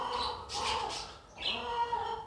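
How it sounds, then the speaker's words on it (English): Parakeets in a park aviary give bursts of harsh squawks and chirps, moderately close, over a faint outdoor background. "Is it parakeets or whatever they're called?"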